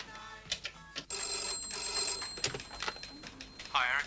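An office telephone rings with bright electronic trills in bursts, loud and near, then gives way to a voice starting to talk at the end.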